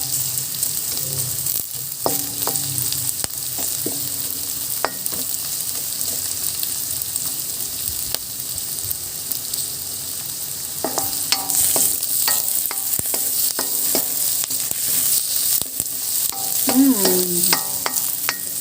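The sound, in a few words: sautéing garlic, onion and bell pepper in a pan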